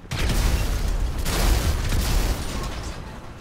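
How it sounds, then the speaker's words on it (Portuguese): Grenade explosions in Grand Theft Auto V, a loud burst of booming, rumbling blasts with heavy low end, trailing off in a decaying roar over a few seconds. "3 explosões"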